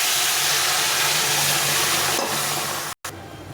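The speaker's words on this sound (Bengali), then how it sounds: "এখন আমি এর মধ্যে জল দিয়ে দেবো।" Hot boiled water pours into a pan of sautéed bitter gourd. It gives a loud, continuous sizzling hiss that runs for a few seconds, breaks off for a moment, then carries on more softly.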